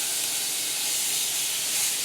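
Red snapper fillet frying in a pan as it is turned over, a steady, even hiss of sizzling oil that fills the whole moment with no voice over it.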